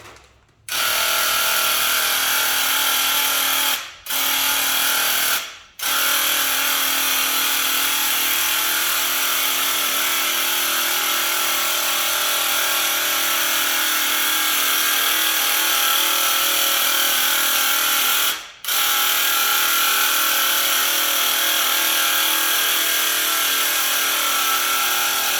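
A Graco paint sprayer applying Annie Sloan wall paint runs as a loud, steady motorized whir for most of the stretch, cutting off briefly three or four times before starting right back up.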